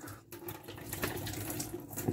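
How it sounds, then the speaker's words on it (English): Water runs steadily from a tap as a Krups The Sub beer torp is rinsed out, a continuous close splashing wash with no talk. "then you really have to rinse it a second time"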